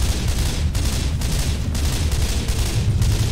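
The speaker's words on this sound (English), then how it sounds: "Nice shooting, Lewis!" Rapid gunfire from several weapons in the zombie shooter game Left 4 Dead 2, a steady dense fusillade of shots with low rumbling booms underneath, loud and continuous throughout.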